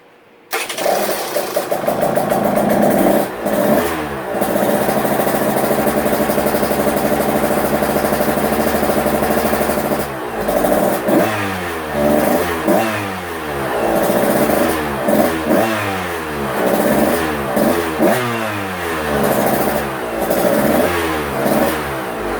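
A rebuilt KTM 125SX two-stroke dirt bike with a new forged single-ring piston fires up and runs loudly, holding a steady buzzing rev before dropping into repeated sharp throttle blips that rise and fall, close and alone.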